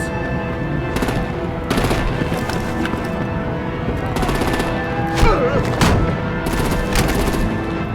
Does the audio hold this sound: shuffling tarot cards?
no